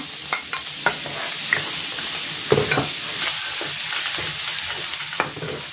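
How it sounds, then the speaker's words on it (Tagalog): Garlic sautés in butter in a pan with a bright, constant sizzle, and scattered scrapes and taps of a spatula stirring it, close up and alone. "Igigisa ko na dito yung bawang"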